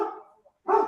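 A dog gives two short, loud barks close by in a classroom, separated by a brief pause.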